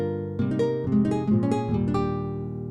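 A ukulele sample plays high up the keyboard of an Akai S900 12-bit sampler, with a brief cluster of bright plucked chords ringing out and decaying, and no voices.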